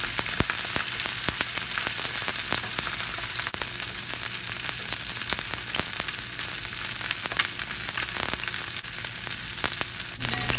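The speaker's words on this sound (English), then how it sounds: "Add the salmon skin side down and let it cook for 5 minutes." Salmon laid skin side down in a hot pan fries with a steady, dense sizzle and scattered sharp pops and crackles, continuing evenly throughout without any talking.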